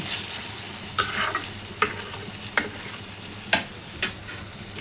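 Muri ghonto masala with chopped tomatoes and salt being stirred in a pan, a steady frying sizzle broken by sharp scraping strokes of the spoon roughly every second, close and fairly loud with no talking.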